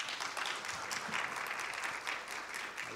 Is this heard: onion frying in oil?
no